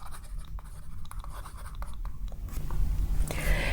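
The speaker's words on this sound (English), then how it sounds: "I'm writing it down." A pen writing on paper, with short scratchy strokes and scribbles running steadily at close range, growing a little busier toward the end.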